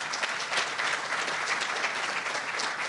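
Audience of educators at a legislative conference clapping steadily, a dense, even wash of many hands holding at moderate loudness for about three seconds with no talk.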